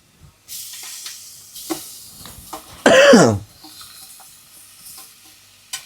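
A single loud, harsh cough from chili powder fumes bursts out amid quiet kitchen sounds of faint sizzling and stirring as the powder roasts, then the background settles back to soft hissing.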